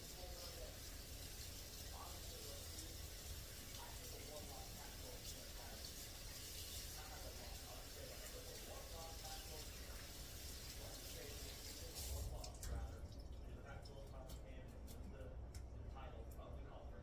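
Steady running tap water rinsing raw pork ribs in a kitchen sink, a constant close hiss and splash that cuts off near the end, followed by faint handling clicks and quiet background.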